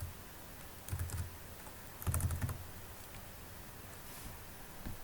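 Code being typed on a computer keyboard during a CSS tutorial: soft, close key clicks come in two short bursts and a few scattered taps over a faint steady hiss.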